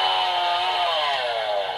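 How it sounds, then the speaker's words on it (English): Electronic revving chainsaw effect from a Power Rangers Ninja Master Blade toy, a buzzy synthetic whine that holds steady and then slides slightly downward, loud and alone for about two seconds. "you have the little roaring of the chainsaw and then sword clashing"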